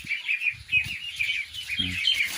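Newly hatched free-range ducklings peep in quick, high chirps while being fed, a close, continuous chorus with soft low handling noises underneath.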